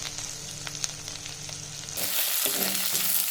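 Chopped banana flower sautéing in a pan, a steady sizzle that suddenly grows loud and bright partway through, as if stirred or more oil hits the pan; no talking.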